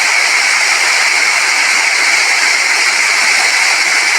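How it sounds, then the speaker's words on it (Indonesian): Steady, dense rush of water at a mountain pond on Gunung Poteng in Singkawang, with a bright, shimmering layer that could be insects or other animals, continuous and fairly loud with no talking. "Kita dengarkan suara gemericik air, binatang-binatang"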